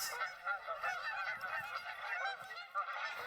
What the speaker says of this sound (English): this is definitely some geese who've landed